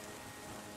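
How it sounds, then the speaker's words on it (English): Soft, even rain hiss falling across the landscape in the video game Terra Nil, a quiet continuous patter with no other sounds over it. "Oh, the rain has started."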